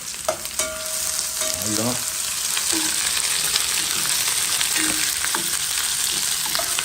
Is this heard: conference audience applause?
no